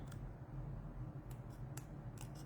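Scissors snipping paper around a printed stamped sentiment for a pop-up card, a few quiet close crisp cuts in short bursts over a steady low background hum.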